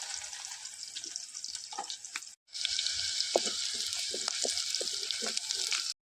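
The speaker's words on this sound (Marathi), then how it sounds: "कांदो मी फोडण्यासाठी तेलात कांदो टाकतो" Chopped onion dropped into hot oil for tempering a Malvani crab curry, a loud steady hiss of frying that breaks off briefly, then surges back with crackles and pops, close by.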